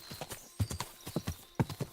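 Horse hooves clip-clop at a walking pace in the medieval video game Kingdom Come: Deliverance II, a quiet, uneven run of hoof strikes on hard ground, with a few louder steps.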